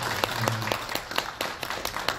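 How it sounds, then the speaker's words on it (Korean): An audience claps to close a lecture at a Korean research institute, a moderate run of applause with a few sharper individual claps standing out and a voice faintly underneath. "박수로 우리 마무리."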